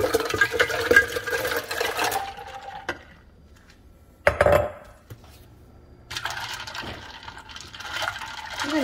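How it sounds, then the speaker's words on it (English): Cold water and ice go into a pitcher of agua de Jamaica, with rattling ice clinks and splashing pours in bursts separated by quiet pauses. "So 2 cups of cold water going in."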